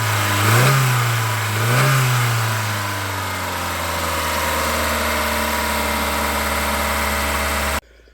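A Volvo 740 engine running after new ignition parts and cambelt, revved twice in quick blips before settling into a steady, even idle, loud and close, then cut off abruptly at the end.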